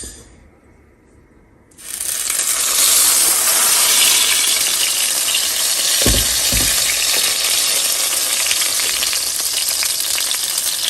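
Chili sauce strained into hot oil in a pot starts a loud, steady sizzle after a quiet start, with a broad frying hiss and a couple of brief low thumps.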